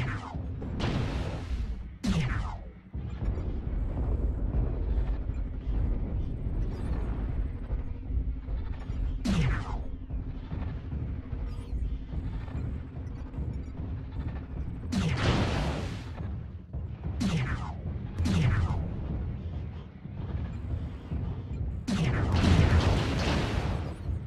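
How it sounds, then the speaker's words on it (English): Artillery strike explosions in MechWarrior Online, a run of heavy booming blasts landing at irregular intervals over a steady rumbling battle din, with several impacts bunched close together near the end. "Artillery strike activated."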